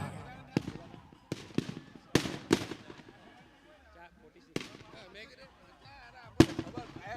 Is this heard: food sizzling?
no